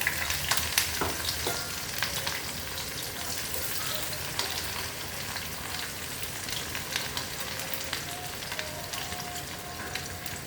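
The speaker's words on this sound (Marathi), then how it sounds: "आपला कांदा छान परतून झालेला आहे" Onion frying in oil with mustard seeds and cumin, a steady close crackling sizzle with occasional stirring scrapes, continuous and fairly quiet throughout with no talking.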